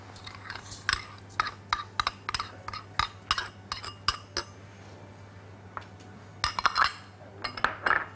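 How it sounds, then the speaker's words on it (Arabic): Butter and sugar being mixed in a bowl, heard as a run of sharp, rhythmic utensil clinks and scrapes against the bowl, close and fairly loud, with a pause partway through before the clinking resumes. "هنبتدي بإن احنا نخلط الزبدة"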